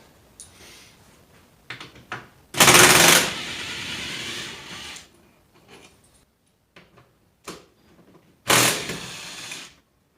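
Ratchet and wrench work on the 12mm seat bolts of a Honda Goldwing 1500 motorcycle, heard as short bursts of clicking and scraping, with two louder metallic rattles separated by quiet gaps.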